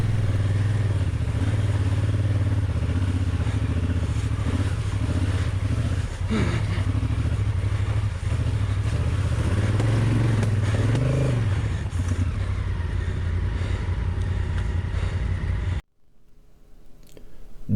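Heavily loaded adventure motorcycles, nearly 300 kg each, ride off-road through muddy tracks in the Sologne countryside. A steady, loud engine drone runs throughout with clattering bumps, then cuts off abruptly near the end.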